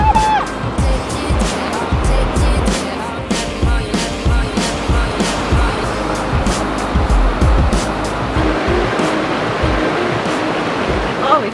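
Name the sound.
creek water flowing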